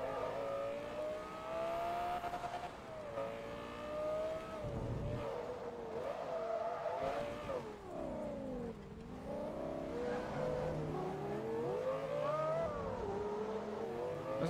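A Dodge Viper's V10 engine in Forza Motorsport 2 revs and climbs through gears, a loud rasping drone whose pitch rises, drops on shifts and rises again, steady and close without talk.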